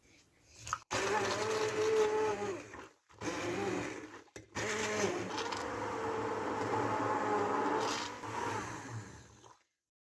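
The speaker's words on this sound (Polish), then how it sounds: "dorzucamy imbir i całość blendujemy." Kitchen blender whirring as it purees a ginger smoothie, a loud continuous motor drone in several bursts with brief pauses between them, close and steady.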